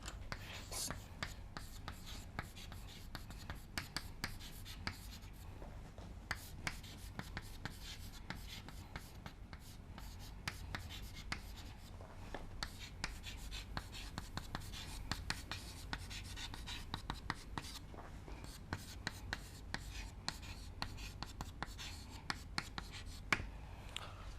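Chalk or marker strokes as a lecturer writes on a board during an ethics lecture, a quiet run of short irregular scratches and taps spread through the whole stretch, faint, with a soft voice now and then.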